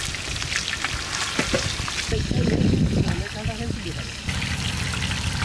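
Catla fish sizzles and spits as it fries in oil in a pan, a steady close crackle with stirring and scraping of the fish while a voice talks over it.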